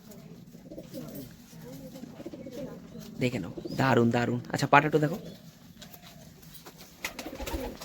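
Chotial, Madras and Kalanka breed pigeons cooing in close, throaty bursts, mostly through the middle, while someone talks over them.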